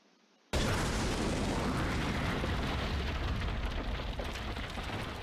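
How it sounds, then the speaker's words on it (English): Explosions in a video game, a sudden loud boom after a brief quiet start, then a sustained dense roar of fire and blasts that stays loud and slowly fades. "The flames from the explosions are everywhere"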